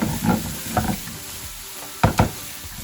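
Eggplant cooking in an oiled pan for a Turkish stuffed eggplant dish, heard as a soft sizzle broken by a few scraping stirs, two near the start and a louder pair toward the end.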